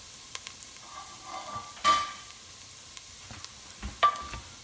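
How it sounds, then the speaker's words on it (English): Cooked pasta tossed into a hot pan of garlic and chilli gives a steady low sizzle, broken by two sharp clatters of stirring and metal scraping, close and alone without any talk. "what we're going to do now is we're going to throw in the pasta"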